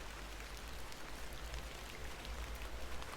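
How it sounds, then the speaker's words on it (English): Steady rain falls in the video game Hob's Barrow, a constant soft hiss with low rumble that stays even and continuous throughout, with no voices. "A bit of rain won't kill me,"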